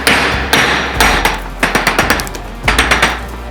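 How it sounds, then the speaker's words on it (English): A hammer beats on the flat side of a MKC Tactical SERE25 knife blade driven through a 2x4 with a knot, producing loud, sharp metallic strikes, first a few spaced blows, then a rapid run of evenly timed hits and a final burst. "Should we beat on it through the 2x4? Yeah. With a hammer?"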